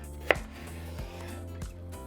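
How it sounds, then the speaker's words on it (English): A knife cuts a cucumber into strips on a board, giving a few crisp chops: one sharp strike first, then two softer cuts spaced apart, close and fairly quiet with no voices. "next we're going to cut our cucumber. And I'm going to cut it in strips like that."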